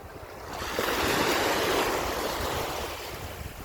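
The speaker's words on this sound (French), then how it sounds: "Regardez les vagues." Sea waves breaking on the shore on a day at the coast, one broad rushing surge that swells, peaks and slowly recedes, loud and close with wind noise on the microphone and no voices.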